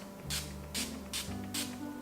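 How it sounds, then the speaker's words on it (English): Urban Decay Chill setting spray mists out in four short, crisp spritzes at an even rhythm, each a close airy hiss, over a quiet background hum. "my Urban Decay Chill Setting Spray"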